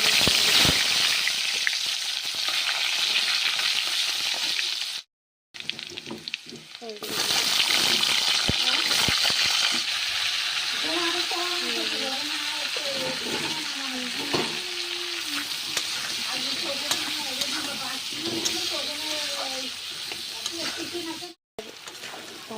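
Onions frying in oil in a wok for a fish curry, giving a steady loud sizzle with stirring scrapes throughout, someone talking over it and a couple of brief silent gaps.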